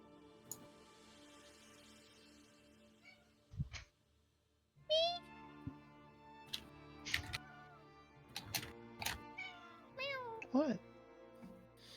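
A cat meowing loudly indoors, several drawn-out rising meows spaced across the stretch, close by, interleaved with people talking at a table.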